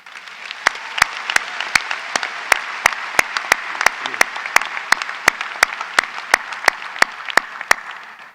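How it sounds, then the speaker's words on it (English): Graduation audience applause at a spring business school commencement, a dense steady wash of clapping from a large crowd, punctuated by sharp regularly spaced clicks. "Give yourselves a round of applause"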